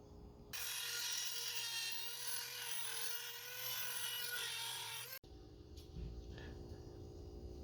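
Steady, loud grinder whine while shaping a steel trench knife, held for about five seconds, then cutting off abruptly and leaving a quieter hum with faint scraping.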